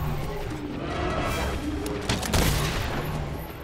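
Gunfire crackling steadily in Monster Hunter World, a dense stream of shots with a louder burst near the end, heard close over the hunt's ambient noise.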